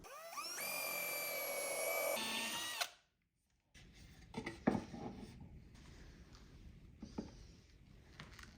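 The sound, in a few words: power drill pre-drilling holes in wood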